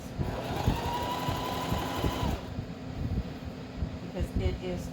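A sewing machine runs steadily while stitching a skirt, with a continuous rapid mechanical whir and needle chatter that stops partway through, followed by quieter handling noises in a close, indoor setting.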